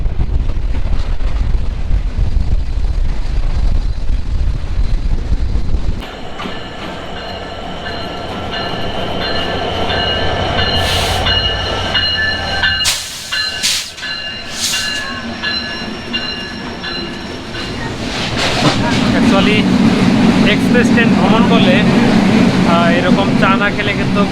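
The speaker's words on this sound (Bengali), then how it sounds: "এক পাশে আমাদের এক্সপ্রেস ট্রেন" Chilahati Express train running alongside a road, a steady rumble of rail travel with wind buffeting the microphone and brief bursts of passing noise in the middle, while people talk over it.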